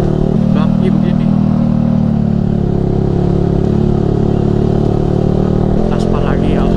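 Yamaha R15 v3 sport motorcycle fitted with a Ronin Musashi exhaust, ridden on a road, giving a loud, steady, close engine drone at cruising revs with little change in pitch.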